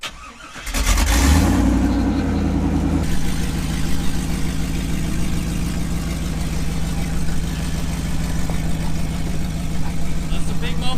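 Custom-driveshaft project car in a garage, engine catching with a loud start and settling into a rough, throbbing idle with light revs, while a person talks over it.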